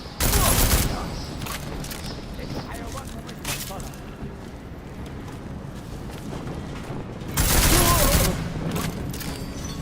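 Bursts of gunfire in Deus Ex: Mankind Divided: a loud volley at the start, scattered shots in between and another heavy burst near the end, with a constant rumble of background noise running beneath.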